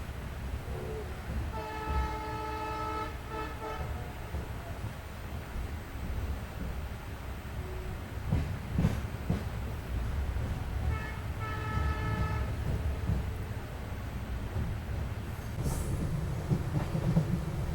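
The Bidar Express, a weekly diesel-hauled passenger train, rumbles steadily along the track while its horn sounds in two clear blasts, one early and one later, over the continuous running noise.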